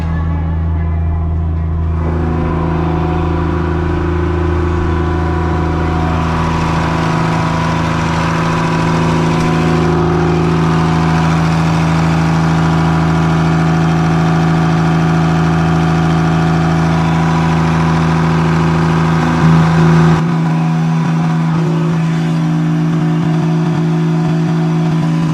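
A trawler's engine drones inside the engine room of a Monk 36 boat, a loud, steady low hum with strong constant tones that shifts slightly near the end.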